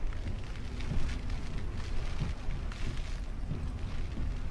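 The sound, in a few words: rain pelting during Hurricane Harvey in Texas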